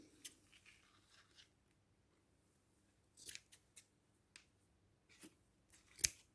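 Scissors cut paper for a junk journal folio in a quiet room, giving several crisp, close snips in short bursts separated by near silence.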